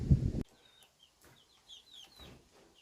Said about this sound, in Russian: Иду к курочкам.